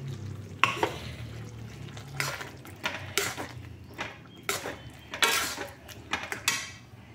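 A potato and poppy seed paste (aloo posto) is stirred in a pan, with repeated scraping and clinking of a spatula against metal in uneven bursts over a low background sizzle.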